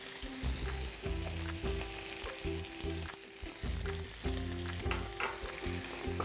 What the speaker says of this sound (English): Once your garlic gets cooking, we're gonna add some of our sweet Maui onion.